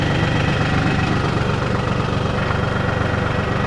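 An LS tractor engine with a backhoe attached idles steadily and continuously, a close, even low rumble with a faint knocking pulse, still running throughout.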